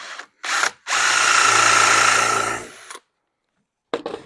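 A power screwdriver set to clutch 11 drives 1-inch wood screws into a dresser case, with two short bursts, then a sustained loud whirring run of about two seconds, and a final brief burst after a pause.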